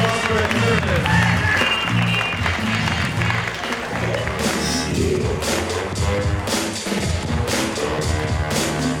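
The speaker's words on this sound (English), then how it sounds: "Applause for the Conservatives" An audience at a political debate-style fight night applauds the Conservatives team, a dense, loud wash of clapping and crowd noise with voices mixed in, continuous throughout.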